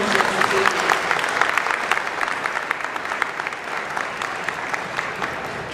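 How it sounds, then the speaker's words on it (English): Audience at a county sports hall of fame induction applauding the sponsors, dense steady clapping that begins loud and slowly eases off. "If you'll all give a round of applause and thanks to our sponsors."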